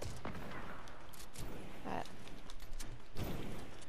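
Gunshots from a Desert Eagle in Fortnite, a few sharp booming cracks mixed into a constant dense wash of game noise, fairly loud and close.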